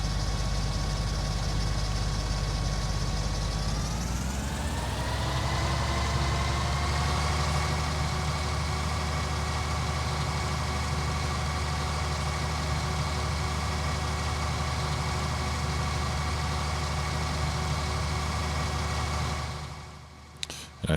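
A combine harvester engine in Farming Simulator 19 revs up from idle to a steady, loud droning hum and holds it for a long stretch, then cuts off abruptly near the end.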